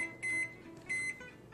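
A kitchen timer being set for baking beer bread gives two short electronic beeps close by, each a steady tone lasting about a quarter second, separated by a brief pause.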